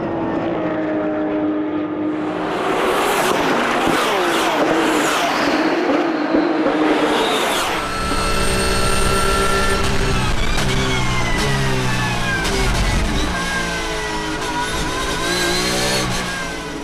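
Race cars at the Paul Ricard circuit in Le Castellet during a Roscar race, with the pack running close together at the start. Loud, continuous engine roar with rising and falling revs as several cars pass nearby, with no talk.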